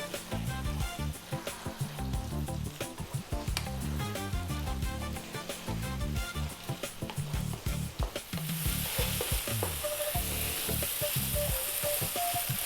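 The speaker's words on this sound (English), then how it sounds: "stirring fairly often. We kind of want to dry this out a little bit." Lamb bhuna sizzles on maximum heat, a loud continuous frying hiss broken by frequent rhythmic scrapes and clacks of a spoon stirring, the sizzle turning brighter and steadier toward the end.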